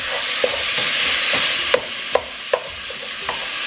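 Ground meat browning in a pan for zucchini noodle pasta, with a loud, steady sizzle and a handful of sharp spatula scrapes and taps spaced irregularly at close range; no voices.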